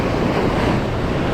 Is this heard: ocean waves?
yes